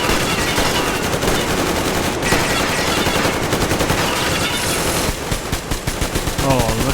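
Rapid automatic gunfire blasts at animals in the video game Metro Exodus, dense loud bursts filling the whole stretch with a few short gaps near the end.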